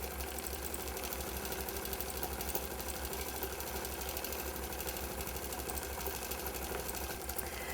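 A Gammill longarm quilting machine in manual mode stitches tiny stippling at reduced speed, giving a steady rapid mechanical hum and chatter that stays even and close throughout, with no voices.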